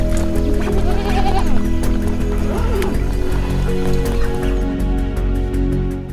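Sheep and lambs bleat loudly and close by, several overlapping cries rising and falling over a continuous flock murmur, with no talking.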